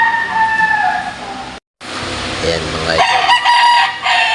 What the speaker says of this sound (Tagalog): Merong maingay na manok.